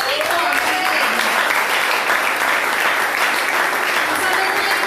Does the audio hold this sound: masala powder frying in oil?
no